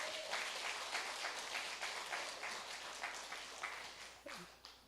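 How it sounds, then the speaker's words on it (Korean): A church congregation applauding during a Korean worship service, a steady patter of clapping from a fairly distant crowd that fades toward the end. "아, 박수 한번 쳐줘봐요."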